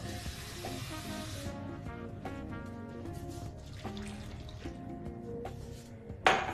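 Water trickles and drips into a pan of slit tomatoes and chilies over low to medium heat, a steady soft liquid sound with a few small clinks and a louder splash near the end, with no talking.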